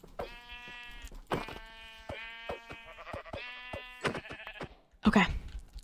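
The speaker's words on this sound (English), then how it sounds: "Is that a freaking sheep?" Minecraft sheep bleat in a string of wavering, nasal calls, about half a dozen in close succession, fairly quiet, ending with a louder burst of noise.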